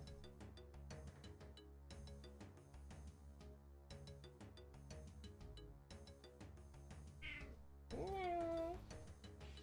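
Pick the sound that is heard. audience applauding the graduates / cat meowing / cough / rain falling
cat meowing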